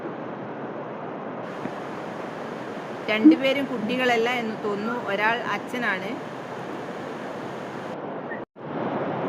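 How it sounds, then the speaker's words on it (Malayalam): At high tide on Muzhappilangad beach, sea waves and wind make a steady wash of surf noise, while someone talks over it partway through. "ഞങ്ങൾ രണ്ടുപേർക്കും ഏറ്റവും ഇഷ്ടപ്പെട്ട ഒരു കടൽ തീരമാണ് ഈ മുഴപ്പിലങ്ങാട് ബീച്ച്"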